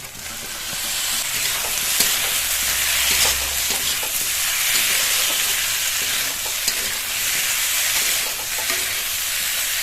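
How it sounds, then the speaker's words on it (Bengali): Drumsticks (sajne data) and tomatoes frying in masala for a Bengali rohu fish curry, with a steady, continuous sizzle and stirring throughout, loud and close, without any talk. "মশলার মধ্যে টমেটো আর ডাঁটা দিয়ে খানিকক্ষণ কষিয়ে নিয়েছি"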